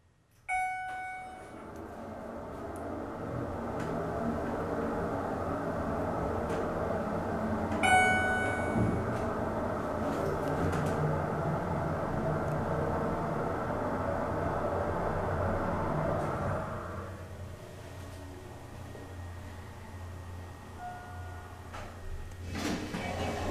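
Elevator number 5 in The Pavilion at KOP Mall, King of Prussia, with solid satin stainless steel doors, runs down to the ground floor. A steady low hum of the moving cab fills the ride, preceded by a chime, then quiets near the end.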